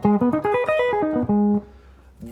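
A clean guitar plays a quick ascending and descending arpeggio in the C shape, harmonized from the major scale, ending on a held low note; the notes are clear and distinct and there is no talking.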